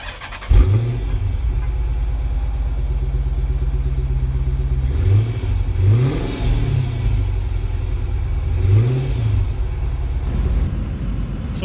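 A 2014 Dodge Charger Super Bee engine cranks and fires, then settles into a loud, deep idle broken by several sharp revs that rise and fall, heard close with no talking.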